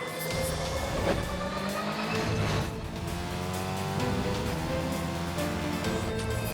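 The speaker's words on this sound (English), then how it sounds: "But they just steal a cop car and everyone's giving chase. Pretty decent car chase here." A cartoon car chase in Carmen Sandiego, with engines revving and roaring, repeated tires squealing and skidding, and cars weaving through traffic in a continuous, busy, loud stretch.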